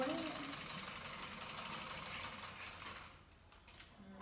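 Sewing machine stitching fabric for a hat, a fast rhythmic whirring chatter up close that runs for about three seconds and then stops, with a voice talking softly at the end.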